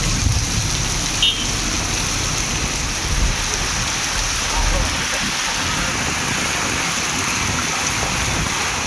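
Heavy rain pours down steadily with gusting wind, a dense, even hiss of falling water that stays constant throughout with a few low thumps.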